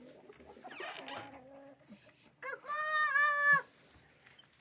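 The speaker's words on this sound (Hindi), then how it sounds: "ये हमारा मुश्का असील मुर्गा है।" Black Aseel chickens, including a rooster, in a coop, giving a few close, wavering clucks and a longer drawn-out squawking call, with faint chirps in the background.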